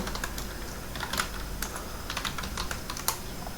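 Typing on a computer keyboard, a quick irregular run of clicking keystrokes with a few sharper key presses, close and fairly quiet over a low background hum, with no speech.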